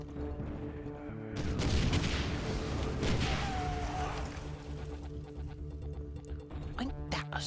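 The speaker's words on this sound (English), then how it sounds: "Wait, so blast spheres are just like random explosions." Blast spheres in the Heretic game, played with the Trailblazer mod, burst into a dense, roaring wall of explosions. The blasts stay heavy and continuous over a low rumble, with a sharp crack near the end.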